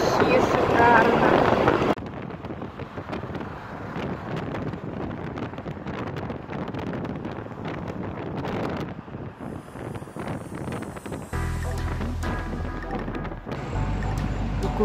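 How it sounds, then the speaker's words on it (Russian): Cold wind buffets an outdoor microphone on a Baltic summer day, a loud rumbling wind roar that drops after the first two seconds, then continues steadily with a heavy low gust near the end; a voice is faintly present. "Какой классный холодный ветер."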